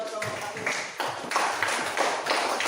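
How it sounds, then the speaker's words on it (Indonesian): A classroom of students claps for a group after a math exercise, uneven bursts of hand clapping that swell and fade in waves, fairly close and moderately loud. "kasih tepuk tangan buat kelompok"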